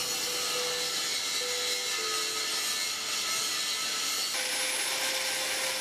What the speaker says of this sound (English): Cutting oil is constantly poured while drilling to reduce the friction.